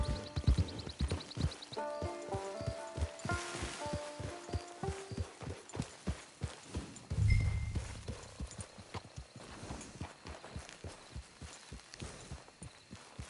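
Horse hooves clip-clopping at a steady walking rhythm in the video game Red Dead Redemption 2, close and even on the ground, with a brief snort midway and game music faintly early on.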